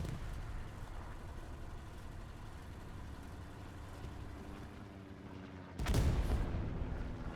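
Battlefield rumble in Hell Let Loose ends in a single loud rocket-impact explosion near the end, a sharp blast that rolls off into a fading roar.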